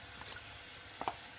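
Onion and coconut paste frying in hot oil for a rajma masala curry, a brief close sizzle with a couple of faint spoon clicks.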